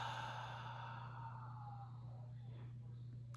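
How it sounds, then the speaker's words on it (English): A deep breath let out through the mouth during a guided mirror-work meditation, one long soft airy exhale over a steady low hum, quiet and close. "exhale through your mouth"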